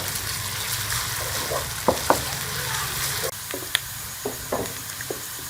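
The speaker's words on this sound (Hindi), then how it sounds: "प्याज का हल्का गोल्डन होने तक फ्राई कर लेंगे।" Onion paste fries in a hot pan for a kaleji masala, a steady close sizzle with occasional stirring scrapes and clicks, no voices.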